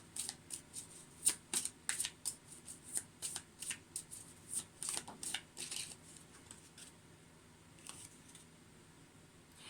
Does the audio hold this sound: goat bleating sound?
no